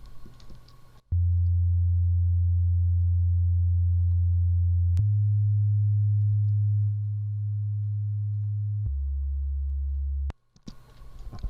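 Synth bass from a tech house track built in FL Studio holds a loud, smooth sustained low tone that steps between a few pitches, with a click at each change and brief noisy bursts at the start and end.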